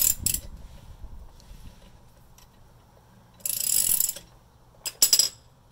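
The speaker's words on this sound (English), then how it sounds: "And I gotta back them out with the ratchet." A ratchet backs out bolts on a 2007 Lexus RX350 during an emergency brake replacement, sounding in short bursts of rapid clicking, one at the start, a longer run mid-clip and two quick bursts near the end, with quiet gaps between.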